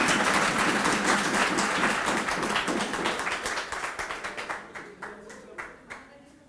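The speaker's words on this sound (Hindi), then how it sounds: "कृपया एक इतना जोर से तालियां दे नवीन सर के लिए" An audience at a parents and teachers meeting applauds Naveen sir with loud, dense clapping that thins out toward the end into scattered individual claps.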